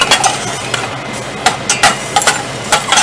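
Blueberries sautéing in a pan on low heat for a cheesecake topping, a steady soft sizzle overlaid with repeated sharp taps and scrapes of a utensil against the pan.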